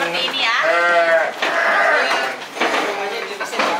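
A large Garut sheep of about 50 kilos bleats loudly and close by during weighing, one long wavering call followed by pen noise and a voice speaking.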